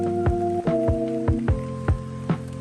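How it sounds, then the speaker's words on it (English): Heavy rain pours on an SUV heard from inside, a steady patter with intermittent heavier drips and thuds on the body, set against a constant low hum. "It's literally pouring."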